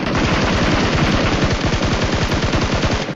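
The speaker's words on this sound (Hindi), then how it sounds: "लेकिन तभी सामने से फायरिंग होती है" Rapid automatic gunfire in a shooter video game, a loud, dense stream of evenly spaced shots firing for about three seconds without pause, with no voices.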